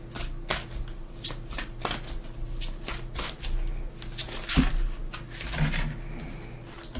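A deck of oracle cards is shuffled repeatedly by hand, giving rapid riffling bursts and soft flaps at a quick, uneven rhythm, close and clear with no talk.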